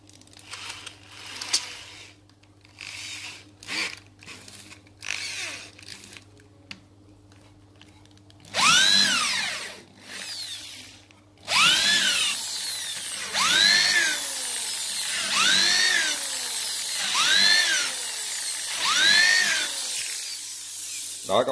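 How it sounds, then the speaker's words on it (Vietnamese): A power drill with a nail fitted as its bit bores into soft wood. Its whine rises and falls in repeated strokes, each ending in a sharp upward sweep, loud and close after a quieter start of scattered handling noises. "mình đưa vô cái khoan, mình làm cái mũi khoan luôn các bạn"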